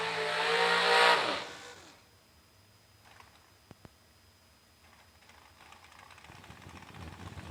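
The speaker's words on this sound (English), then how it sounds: "Burnouts complete for the first pair of blue run sticker dragsters." A sticker-class dragster burnout at a drag strip starts as a loud engine roar with screeching tires that peaks and then cuts off, followed by a quieter stretch of faint track noise and a distant engine building again.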